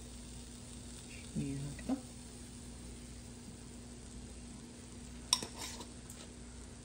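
Onions softening in a tagine with salt, a faint steady sizzle under a low background hum, with a couple of soft stirring scrapes early on, a sharper clink later, and a few brief spoken words.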